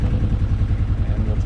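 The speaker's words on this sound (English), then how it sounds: "let the engine warm up" A sailboat's engine idles steadily while warming up, a low rhythmic chugging thrum heard close and continuous with no other sounds.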